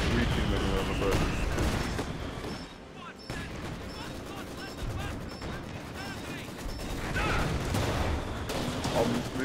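Mortar and artillery fire in the strategy game Company of Heroes 2 during a 4v4 match, a busy battlefield of repeated booms, crashing impacts and scattered gunshots, loud and continuous with brief lulls.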